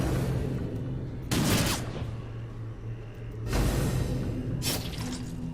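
A grapeshot attack in Darkest Dungeon lands in three sharp, wide blasts over a steady low game hum, each burst loud and brief.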